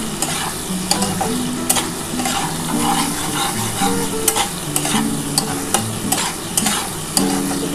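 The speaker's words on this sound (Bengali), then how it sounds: "এবার ভালো করে এটা ভাজা ভাজা করতে হবে।" Catla fish oil fries with chilli powder in a pan, a steady sizzle broken by regular scraping taps of a spatula stirring against the metal, close and clear with no talking.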